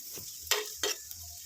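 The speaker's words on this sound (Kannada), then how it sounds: "ಎಲ್ಲ ತೊಳೆದು ನೀಟಾಗಿ ಕಟ್ ಮಾಡಿಕೊಂಡು ಹರಳೆ ಮೇಲೆ ಹುರ್ಕೊತಿದ್ದೀನಿ" Vegetables, including okra, fry in oil in a pan for sambar, giving a faint steady sizzle with two short bursts of stirring or scraping.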